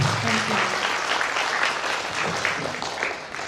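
Seminar audience clapping together for a speaker, dense, sustained applause filling the room at steady volume throughout.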